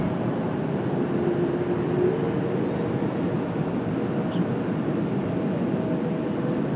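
A jet aircraft rumbles steadily at Washington Dulles airport, a broad continuous roar at moderate distance with a faint whine riding on top and no pauses.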